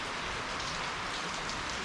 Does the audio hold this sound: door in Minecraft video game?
no